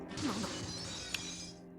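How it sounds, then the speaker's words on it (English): Window glass shattering in the visual novel game Robotics;Notes Elite: a brief burst of breaking glass over soft background music, with a sharp crack near the end. "I flinch at the sudden sound of glass shattering."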